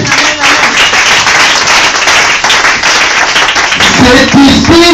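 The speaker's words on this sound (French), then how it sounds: "Acclamons très fort pour la parole de Dieu" A church congregation bursts into loud, vigorous clapping and applause during a sermon, with rapid dense claps throughout and voices rising near the end.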